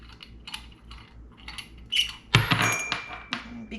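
Espresso portafilter from a Breville Barista Touch having its back unscrewed: close, small clicking and ratcheting metal taps, then a louder clack and a brief squeaky scrape with a sustained whine.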